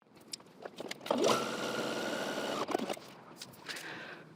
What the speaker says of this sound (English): just running a single line of stitching within the seam allowance